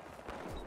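A short burst of gunfire in the video game Battlefield Hardline: a quick sharp crack with a brief rumbling tail, heard alone.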